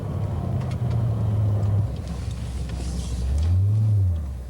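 A 1994 Aston Martin Vantage engine rumbles low and steady in traffic, swelling in a brief throaty rise near the end, loud and close with no talk.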